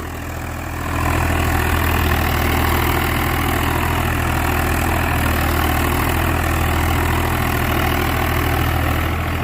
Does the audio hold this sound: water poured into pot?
no